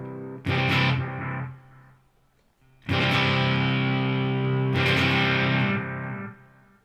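A distorted electric guitar runs through a delay effect on a Line 6 HX Stomp, striking three loud chords, the first decaying into a quiet gap and the later ones sustaining into each other before trailing off.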